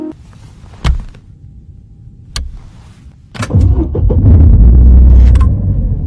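A car engine turns over and catches after repeated presses of the starter button, with a few sharp clicks and thunks first, then a loud sustained idle rumble up close.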